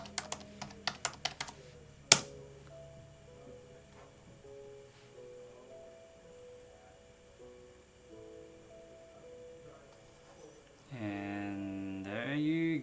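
Quick burst of keystrokes on a computer keyboard as a PIN is entered, a handful of sharp close taps in the first two seconds followed by a louder single click, then quiet room tone and later a brief electronic tone.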